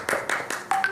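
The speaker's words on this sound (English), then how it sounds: "Please give him a huge round of applause" A few sharp, separate hand claps at a healthcare conference awards ceremony, four or five distinct slaps in a loose rhythm, close and fairly loud.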